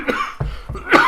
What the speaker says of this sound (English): that's some more coughing, hopefully a little bit away from the mic